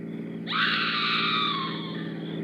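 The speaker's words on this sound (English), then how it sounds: "Sounds like a woman screaming." A woman screams in an old-time radio drama, one long, loud, wavering cry rising suddenly and holding steady over a low constant hum.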